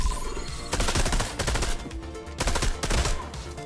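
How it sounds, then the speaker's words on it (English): Tactical DMR marksman rifle firing at a guard in Fortnite: a rapid run of loud, sharp shots in dense clusters with short gaps between bursts. "I'm going to shoot this guard in the head."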